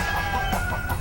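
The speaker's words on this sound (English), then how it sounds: "This is another pure claret rooster." Pure claret gamefowl chickens cluck close by in a short burst from a breeder's flock, loud and unbroken.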